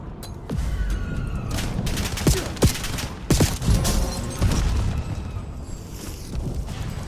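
Heavy video game gunfire pours in from enemies during a reload, a dense, loud run of rapid shots and booming impacts with no letup, a few sharper blasts standing out from the barrage.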